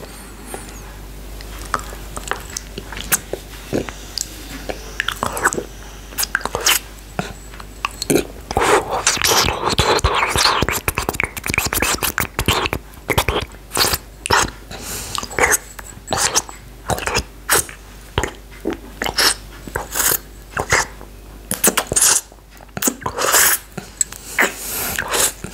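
Cola gel candy chewed up close for ASMR, sticky squelching bites and moist mouth sounds in irregular, clustered bursts over a faint hiss, with no talking.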